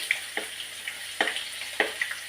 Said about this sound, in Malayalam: ഇതിലേക്ക് ബീട്രൂട്ട് ഇടുവാണേ കടുക് പൊട്ടി